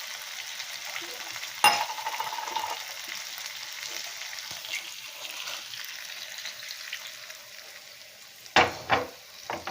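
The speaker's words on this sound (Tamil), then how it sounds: "இப்போ இதில் கொஞ்சம் போல் தண்ணி ஊற்ற போகிறேன்" Water poured into a hot pan after cooking country chicken curry gives a sharp burst of sizzling, then a steady hiss and bubbling, with a clatter of utensils near the end.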